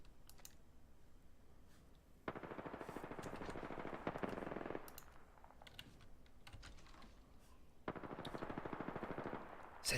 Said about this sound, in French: Ça tire dessus là-bas.